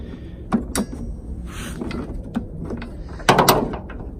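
Metallic clicks and short ratcheting bursts from a ratchet wrench loosening a bolt on a Mazda RX-8 during a hood damper install, a few spaced clicks with a louder cluster near the end, close by.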